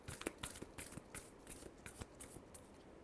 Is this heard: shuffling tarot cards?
yes